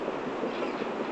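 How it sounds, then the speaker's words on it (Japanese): A JR West 113 series local train in Shonan livery, an eight-car C13 and C5 set on the Kosei Line, pulls into Otsukyo station with a steady, loud broadband rumble of wheels and cars running continuously throughout. "まもなく4番乗り場に普通電車ハート行きが参ります。"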